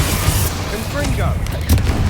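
A Confringo fire spell blast in Hogwarts Legacy gives a heavy low boom followed by rumbling impacts and a second thump near the end. Voices are heard during the combat.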